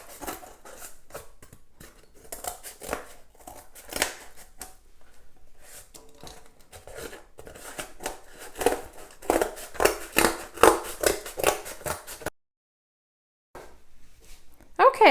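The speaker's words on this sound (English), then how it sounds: "So now I'm going to cut out my mask." Scissors cutting out a cardboard mask for a kids' art lesson, a steady series of crisp snips and crunching cuts at close range, growing louder toward the end, with a short silent gap near the finish.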